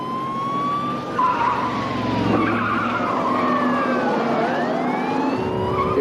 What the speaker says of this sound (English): He sped off from the traffic stop.